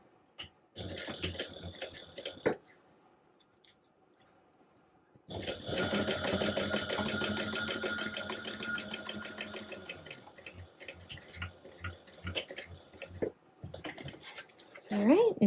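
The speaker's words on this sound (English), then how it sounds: "we're going to top stitch at 1/8 of an inch seam allowance" A sewing machine runs a top stitch on fabric at a 1/8 inch seam allowance, a fast steady needle whir in two close runs with a pause between, while a person talks.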